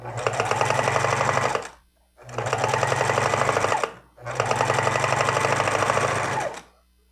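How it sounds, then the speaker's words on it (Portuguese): A sewing machine stitching together fabric scraps in three loud, rapid bursts of about two seconds each, separated by short pauses, heard up close. "eu baixo o calcador da máquina e irei começar a costura"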